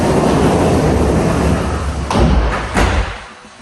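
Indi-Fold door panels slide and fold open, a long loud rolling rumble along the track followed by two distinct knocking thuds as the panels stack, then quiet.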